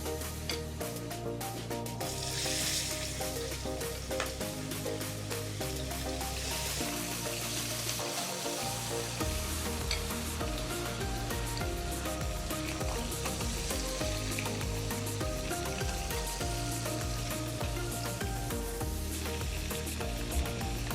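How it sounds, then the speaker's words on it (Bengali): Shing fish frying in hot soybean oil in a kadai, a steady loud sizzle and bubbling throughout with occasional stirring and scraping sounds, no voices. "তেল গরম হয়ে গেছে, শিং মাছগুলো ভেজে নেব।"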